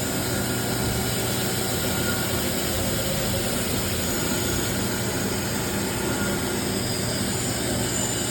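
The spindle of a 2018 Toyoda Stealth VB215 CNC machine runs at 6,000 RPM, producing a loud, steady, unbroken whirring roar that holds constant throughout.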